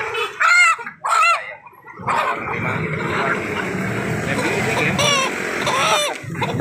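Chickens cluck and squawk in short bursts at an Indonesian market, then a busy crowd murmur takes over with more clucking mixed in, voices talking nearby.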